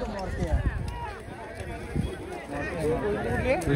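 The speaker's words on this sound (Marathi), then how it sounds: "2-3 बैलांचा सुट्टीचा थरार दाखवूया आपण." Bullocks' hooves clatter and thud as they run past in a bullock cart race, mixed with a loud crowd shouting and talking over the noise.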